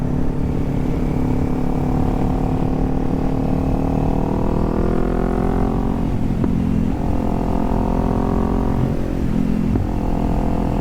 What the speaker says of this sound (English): Nice Harley, nice old big cruiser.